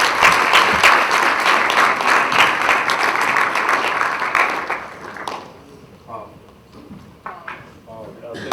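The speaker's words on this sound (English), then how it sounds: "Please give her a round of applause." Audience applause at a university launch event, a dense burst of many clapping hands for about five seconds before fading into scattered claps and murmuring.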